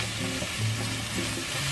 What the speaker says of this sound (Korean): 그리고 썰어놓은 파인애플을 넣고 호다닥 섞어주세요.